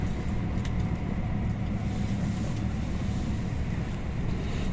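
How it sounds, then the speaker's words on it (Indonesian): Inside an intercity luxury bus speeding on a highway from Jakarta to Malang, a steady, loud, dense low rumble of engine and road noise with wind roar runs throughout, no talk. "Dan ini busnya kenceng guys, mungkin 100-an km per jam dan nempel di lajur kanan terus."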